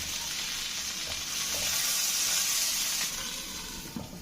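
Ol (elephant foot yam) leaf paturi with prawns frying slowly on low heat gives a continuous soft sizzle and hiss, swelling slightly midway, with a few faint clinks and no voices.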